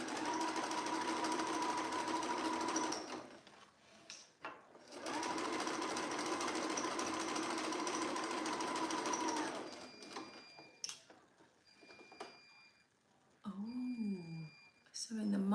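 A sewing machine stitches over a seam on a Molly dress in two long steady bursts with a short pause between them, followed by quieter handling noises and a few beeps under talking.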